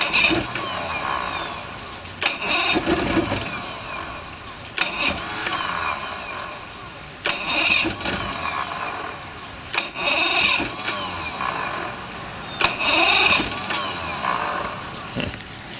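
A boat engine on a $500 DuraCraft boat, its spark plugs removed, cranks and briefly catches after fuel is sprayed into the cylinders, with repeated loud cranking bursts and short revving surges at steady intervals.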